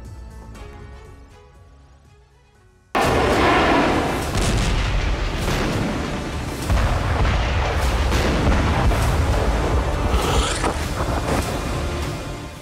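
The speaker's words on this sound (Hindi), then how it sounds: "आसमान से बम बरस रहे हैं" Airstrikes on Gaza bring loud bomb explosions and dense rumbling blasts that start abruptly and keep booming for several seconds.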